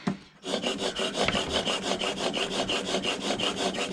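Vintage Stanley No.4 plane iron rubbed back and forth on a sharpening stone in a steady, fast rhythm of abrasive strokes, close and fairly loud, with no talking.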